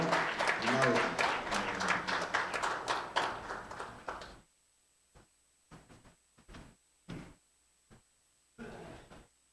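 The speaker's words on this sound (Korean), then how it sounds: "큰 박수로 맞아주시기 바랍니다" A church congregation at a Sunday service in a prayer house applauds to welcome performers. Thick, loud clapping swells for a few seconds, then cuts off and thins to a handful of scattered, isolated claps in near silence.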